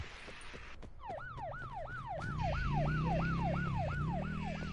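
A police car siren in a video game wails in a fast repeating rising-and-falling cycle, with a revving car engine building underneath and the background loud and steady.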